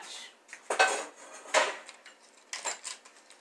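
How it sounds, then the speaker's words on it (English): Three metallic clanks and rattles of a rack sliding in an oven, spaced about a second apart, close and moderately loud. "He's going to lower the rack for me, so you'll hear some noise."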